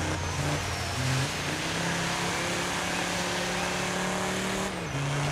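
A petrol car engine in the video game Dirt 5, classic rally, revs and climbs through the gears, its pitch rising steadily before a brief drop and a fresh climb, loud and continuous.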